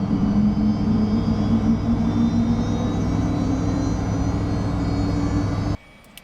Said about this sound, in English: Okay, both engines started.